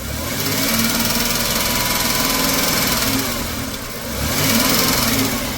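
Engine of an abandoned Chrysler New Yorker running steadily, then revved twice, a continuous loud mechanical drone with a ticking, knocking edge like a sticky lifter, rising and swelling with each rev.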